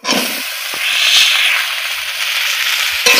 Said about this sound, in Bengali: খানিকটা নেড়ে চেড়ে নেব